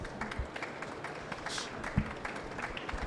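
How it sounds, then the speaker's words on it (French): Audience at a French business conference on Made in France and patriotism claps for a speaker, a moderate patter of hands that stays fairly even, with a faint voice partly beneath it. "On peut applaudir Olivier Ducatillon."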